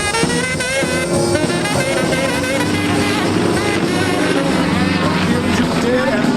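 A Yak 50 aerobatic airplane flown by Gord Price performs a manoeuvre at an airshow, its engine drone loud and continuous with shifting pitch throughout, mixed with crowd and announcer noise.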